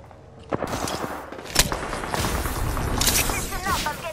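Rapid bursts of video-game gunfire from Apex Legends crackle through a busy firefight, with sharp shots and impacts piling up over a steady din while players talk over the action.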